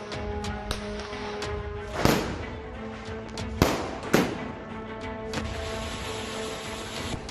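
Diwali firecrackers bursting across Delhi despite a ban, with several sharp loud cracks and bangs at irregular intervals over a continuous backdrop of distant crackling and popping.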